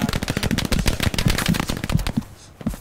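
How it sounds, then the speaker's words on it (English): Enemy tank fire and heavy gunfire in the World War II shooter Hell Let Loose, with a dense, rapid stream of loud shots and bursts running almost continuously before a brief lull and one final report. "Tank shooting at us."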